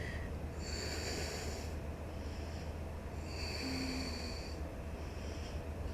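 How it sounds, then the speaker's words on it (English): Deep, slow breathing during a yoga session, two long breath cycles with soft airy inhales and exhales in a quiet room, no talking. "Breathe deeply."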